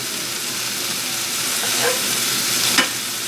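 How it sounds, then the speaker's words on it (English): Shrimp sear in a skillet over a field fire with blackening seasoning and oil, giving a steady, close hiss of frying with a couple of brief sharper sputters near the end. "we're gonna flip these shrimp here on the field skillet"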